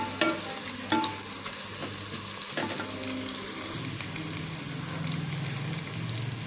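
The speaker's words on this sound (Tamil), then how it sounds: "இப்போ வெங்காயம் நல்லா வதங்கிருச்சு." Onions sauté until browned in a pan for chicken biryani, with a steady frying hiss broken by a few sharp stirring clacks of a spoon against the pan early on.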